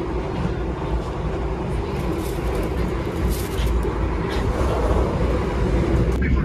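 Kertanegara passenger train of Indonesia's state railway rumbling along, a steady low rolling roar with rattling carriage noise that stays fairly loud and even, as heard from inside the coach, with no talk.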